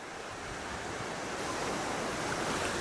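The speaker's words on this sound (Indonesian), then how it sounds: "deburan ombak membuat terapi alam bagi tubuh kita" Ocean waves wash steadily onto a white-sand beach at Banggai Laut, Indonesia, a continuous broadband roar of surf with a gentle rise and fall and some wind, no voices.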